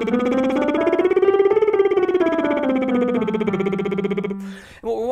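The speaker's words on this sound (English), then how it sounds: "Now again with the lip trill." A singer performs a lip trill on a rising and falling scalar pattern in a soprano warm-up, a continuous buzzing voiced tone that climbs and descends smoothly, heard close and alone before a brief noise at the end.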